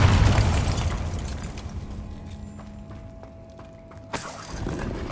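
Bombarda blasting spell going off in Hogwarts Legacy: a loud booming burst at the start that decays into a quiet, sparse ambient tail, then a sharp second impact near the end followed by renewed low rumble.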